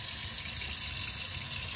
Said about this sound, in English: we'll just run the tap for another minute or two